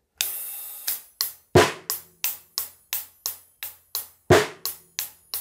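A sparse drum kit pattern of sharp, evenly spaced hits with crisp hi-hat decays, hands and hi-hat foot together, two heavier strikes standing out, played alone with no voices.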